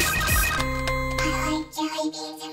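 A bright, tonal phone ringtone melody plays with stacked chiming notes, steady and fairly loud, then shifts to a softer warbling tune near the end.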